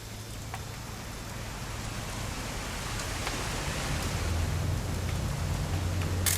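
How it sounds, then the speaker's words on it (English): Steady, even rain in the video game What Remains of Edith Finch hisses throughout, a dense wash of drops with no voices, growing slightly louder toward the end. "It's gonna rain the whole weekend,"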